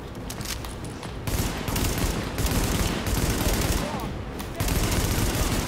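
Rapid automatic gunfire rattles in dense, continuous bursts during a firefight in Tom Clancy's The Division on PS4, loud and close with brief pauses, while someone talks over it.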